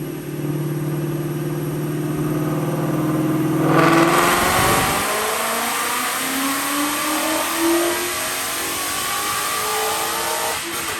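A supercharged Roush RS3 Mustang with a Roush 2300 Phase 2 supercharger and long-tube headers, running 93 octane, revs hard on a dyno. The engine note climbs steadily and loudly, then drops back, with supercharger whine on top.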